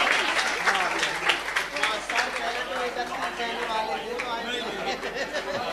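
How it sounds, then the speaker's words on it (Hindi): Congregation applause at a Jain temple gathering honoring contributors to the temple's construction, a steady dense clapping that runs the whole way at moderate loudness, with crowd chatter underneath. "जोरदार तालियों से इनका अभिनंदन और स्वागत हम सभी लोग करें"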